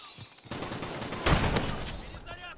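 Shotgun fire in Call of Duty Modern Warfare Remastered sounds as a few sharp, loud blasts with rumbling decay, close by, amid other game noise.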